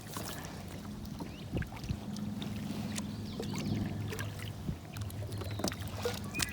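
Kayak paddling across a lake toward a boat launch with a dock, the pedal drive removed: soft, irregular water splashes and paddle strokes over steady low hull rumble and light wind, fairly close, no talking.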